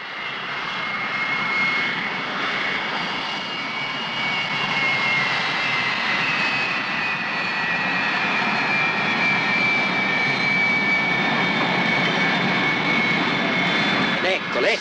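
An airplane's engines roar steadily and loudly as the plane arrives, a broad sustained whine and rumble that holds for the whole stretch with no pause, while voices talk faintly beneath it.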